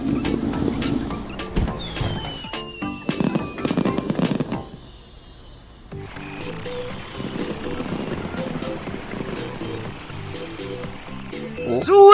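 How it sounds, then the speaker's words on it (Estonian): Cartoon fireworks in a busy animated town scene: a whistling rise, then crackling bursts and pops under music and other effects. A brief quiet gap follows, and layered tones return afterward. "Karl märkas ilutulestikku."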